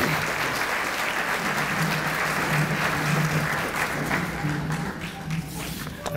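A crowd at a university scholarship brunch applauds, dense steady clapping that carries on for several seconds before thinning slightly.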